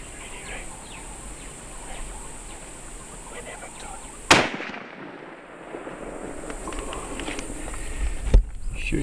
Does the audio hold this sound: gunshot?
yes